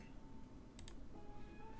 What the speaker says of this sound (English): I hate that you guys can hear me typing.